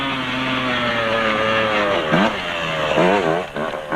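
KTM 125 enduro motorcycle ridden in circles across a field during a two-day enduro event, its two-stroke engine buzzing steadily with rising and falling revs near the end, fairly loud and close.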